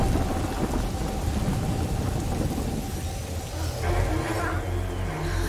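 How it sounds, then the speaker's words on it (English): Thunder rumbles heavily over steady pouring rain during a storm in the game A Plague Tale, a loud continuous roar with a deep crack building near the end. "The lightning bolt."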